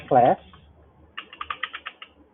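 A short burst of rapid keystrokes on a computer keyboard, about eight close clicks in quick succession, following a brief spoken word.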